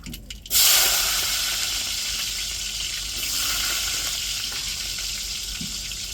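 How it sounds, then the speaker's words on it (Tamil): Mustard seeds, urad dal and small shallots hit hot tempering oil with a loud sudden hiss that settles into a continuous close sizzle, preceded by a brief clatter. "இப்போ நம்ம தாளிப்புக்கு வந்து கடுகு உளுந்து போட்டாச்சு. இப்போ சின்ன வெங்காயம்,"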